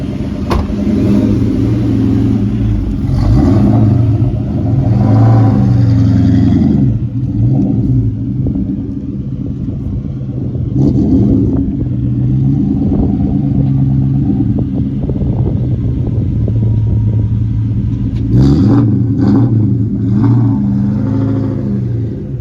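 A 2003 Ford Mustang Cobra Terminator with a new clutch quadrant and firewall adjuster, heard from inside the cabin as its engine accelerates hard, a loud sustained rumbling roar rising through the gears with brief dips at each shift.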